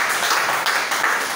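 A church congregation applauding the Lord Jesus Christ during a service, a short burst of steady, fairly close clapping from many hands.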